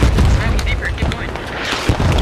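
Mortar rounds bursting in the Squad military shooter during a 50 vs 50 Canadian Army assault on an insurgent-held city: a loud, sustained low rumble of explosions with a sharper blast near the end, heard under voice chat.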